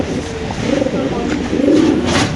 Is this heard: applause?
no